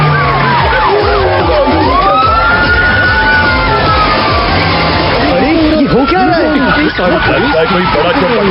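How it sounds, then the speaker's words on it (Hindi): A police siren wails loudly and continuously, its pitch sweeping up and down over busy background noise. "ये तो पुलिस का सायरन है।"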